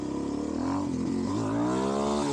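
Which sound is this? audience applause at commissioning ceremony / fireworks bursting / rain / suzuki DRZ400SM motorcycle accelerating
suzuki DRZ400SM motorcycle accelerating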